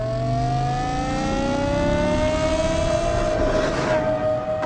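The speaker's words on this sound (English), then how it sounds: "You hear the engine note change, and then if I press down, the throttle response is much more insistent." A BMW E61 M5 Touring engine revving under throttle, its tone climbing steadily as the revs rise, heard loud and close inside the car with a rough burst near the end.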